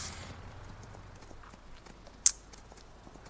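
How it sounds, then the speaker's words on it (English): A horse ridden in the Farming Simulator 19 video game clip-clops along in soft, fairly quiet steady hoofbeats, with a single sharp louder click partway through. "Well, who knew I could ride a horse?"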